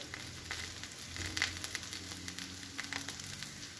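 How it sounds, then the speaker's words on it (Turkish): Onions fry in a pan, a steady soft sizzle with small crackling pops, close and quiet with no talking. "Evet soğanlarımız kavruldu."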